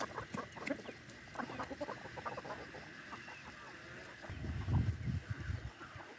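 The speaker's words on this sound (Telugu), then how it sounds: "పెద్ద కోళ్ళు కూడా వచ్చేస్తూ ఉంటుంది" Chickens cluck softly and intermittently in a quiet farmyard, with a louder burst of low clucking toward the end.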